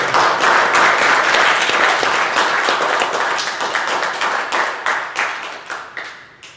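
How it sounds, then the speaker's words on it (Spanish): A church congregation applauds during a sermon, loud dense clapping that holds steady and then thins out into scattered claps as it fades. "¿Qué te parece si le das un aplauso a Jesús?"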